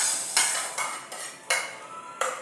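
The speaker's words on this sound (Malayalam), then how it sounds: "ഇനി ഇതിലോട്ട് നമുക്ക് അവിൽ ഇട്ട് കൊടുക്കാം." Flattened rice (aval) is worked in a pan on a gas stove with five sharp scraping, clattering strokes of a utensil against the metal, spaced about half a second apart, with no voices.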